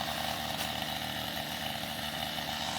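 A chainsaw running steadily while cutting a tree during driveway clearing, loud continuous engine drone close up with no pauses.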